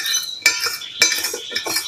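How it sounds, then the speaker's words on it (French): A utensil stirs and mixes a thick pet food paste in a bowl, making close, loud scraping and clinking strokes in an uneven rhythm, with no voices. "Il faut bien mélanger."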